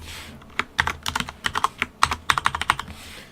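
Fast typing of Python code on a computer keyboard, a quick run of crisp, close keystroke clicks with brief pauses, ending on a near-silent tail.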